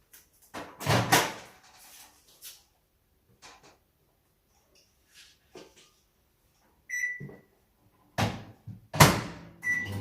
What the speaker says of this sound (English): Now I'm going to put my painting into the microwave.